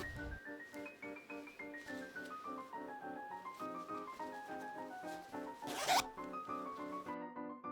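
A zipper on a handmade, Dior-inspired gathered autumn skirt being run along its track. Faint rasping strokes sit under steady background music, with one louder, brief zip near the end.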